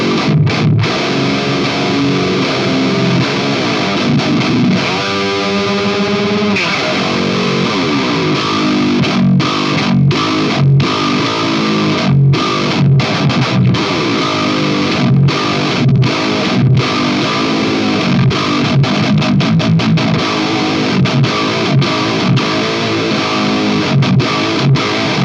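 Heavily distorted eight-string electric guitar through the red high-gain channel of a Revv G3 pedal, playing dense, saturated chords and chugging riffs continuously for the whole stretch, loud and alone with no talking.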